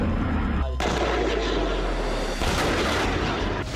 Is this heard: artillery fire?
yes